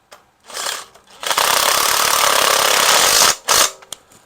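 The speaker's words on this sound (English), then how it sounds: "we'll go snug on all of these first with the impacts, just to make sure everything's seated properly" Impact wrench snugging water pump bolts on a Ford 302 small-block V8, with a short burst, a pause, then one sustained loud rattling hammer run lasting about two seconds, followed by another brief burst and a tail-off.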